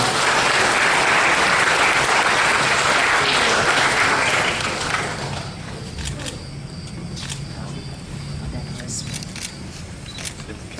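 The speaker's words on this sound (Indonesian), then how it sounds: "kita beri dengan tepuk tangan yang meriah" Hearty applause from an audience at a scholarship recipients' gathering in a pendopo hall, loud clapping that fades after a few seconds into room noise with camera clicks and murmured talk.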